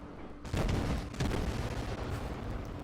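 Warship guns firing in the video game World of Warships: two booming salvos about half a second apart, each trailing into a rumbling wash of distant gunfire.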